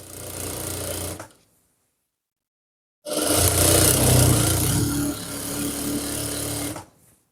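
A sewing machine stitches a Nihang Singh chola up close in two steady runs, a short burst and then a longer one after a pause of about two seconds.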